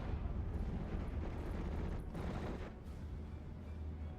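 Artillery fire in the World War II game Steel Division Normandy 44 forms a dense, rolling low rumble of blasts and eruptions, steady and fairly loud from start to finish with no talk.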